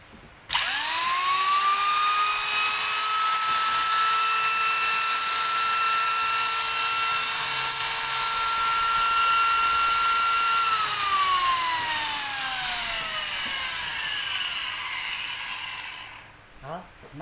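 An electric die grinder rated 240W with a 6 mm collet is test run and gives a loud, steady high whine for about ten seconds, then drops in pitch as it spins down to a stop.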